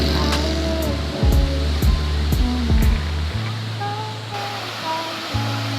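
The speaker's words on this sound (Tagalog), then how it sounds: "lalaki ng alon" Big ocean waves at the shore at sunset, a broad continuous roar of surf with swells rising and falling, mixed with low engine hum and a few brief tonal sounds.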